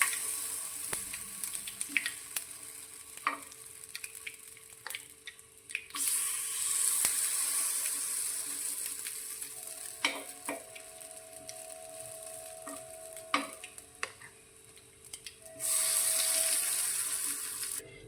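Spoonfuls of green corn batter go into the oiled compartments of an appe pan, setting off a steady close sizzle with faint clinks and brief louder hissing bursts.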